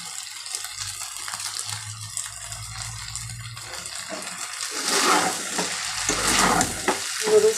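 Noodles with egg and small pieces of beef frying in a pan, a close sizzle swelling louder with stirring and tossing toward the end, no voices.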